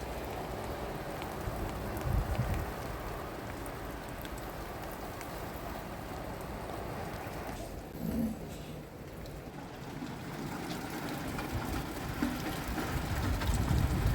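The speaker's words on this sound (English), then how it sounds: "The sound of rain is magical." Steady rain patters on surfaces outdoors with a soft wind, a continuous moderate hiss with a few louder spatters, no talking.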